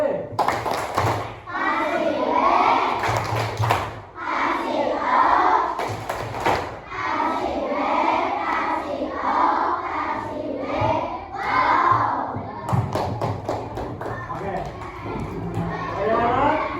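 Fourth- and fifth-grade schoolchildren in an Indonesian elementary classroom doing a rhythmic clapping chant, bursts of group claps alternating with children's chanted voices and a teacher's voice, close and lively.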